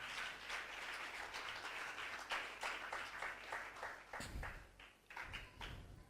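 A church congregation claps after a scripture reading, quiet, uneven rhythmic handclaps spread through a room, continuing steadily before thinning and fading out.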